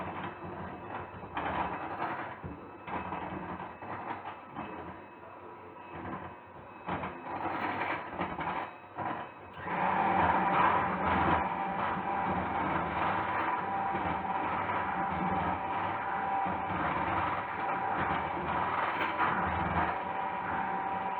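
Box cake batter is beaten by hand in a bowl, producing continuous rhythmic scraping and sloshing close by. The beating becomes steadier and fuller about halfway through.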